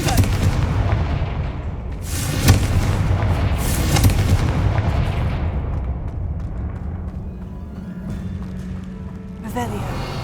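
In the Hogwarts Legacy video game, a Confringo fire spell bursts into a loud, rumbling explosion that rolls on and slowly fades. A voice speaks over the blast.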